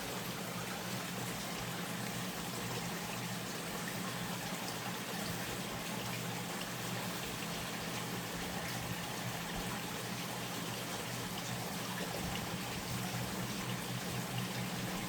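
A creek flows steadily, a constant broad wash of running water with no pauses or change in level, near and moderately loud, with no voices.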